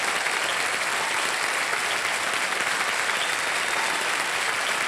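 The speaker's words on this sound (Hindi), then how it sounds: "और ताली बजती रहे" A studio audience at the KBC quiz show applauds with sustained, dense, even clapping, loud and close, continuing unbroken without speech.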